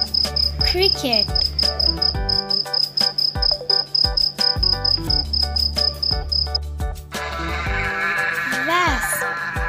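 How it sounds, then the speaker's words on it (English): A cricket chirps in a steady, evenly pulsed high trill for most of the stretch, loud and clear over bouncy children's background music, then stops. "cricket."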